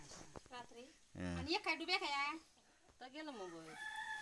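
A rooster crows once, rising and falling, with voices talking around it before and after.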